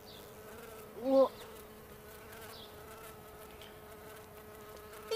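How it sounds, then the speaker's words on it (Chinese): A bee buzzes briefly close by, a short rising whine that stands out for a moment over a quiet outdoor setting, with a single spoken word heard. "你这有蜜蜂"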